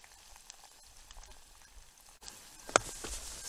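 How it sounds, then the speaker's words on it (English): Potatoes dropped into hot oil over a campfire, a sudden burst of loud sizzling hiss that builds and keeps crackling after a quieter stretch of faint fire noise. "Let's get these potatoes in here."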